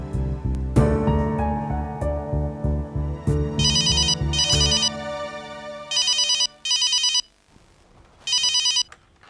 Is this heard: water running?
no